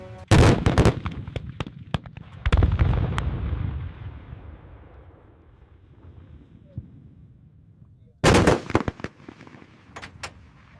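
The World War II Schwerer Gustav railway cannon fires in a series of sharp, heavy blasts. Each blast is followed by a long rumbling decay, and a further burst of booms comes several seconds later.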